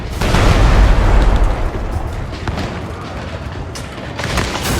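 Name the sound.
cannon fire in a video game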